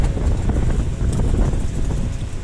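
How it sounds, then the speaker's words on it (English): Strong outdoor wind buffets the microphone on a blustery day, giving a loud, continuous low roar with uneven gusting pulses throughout. "Sorry about the wind, guys."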